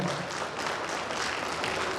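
Applause from committee members standing to welcome an honored guest at a community ceremony, a steady dense wash of clapping that fills the whole moment without pause.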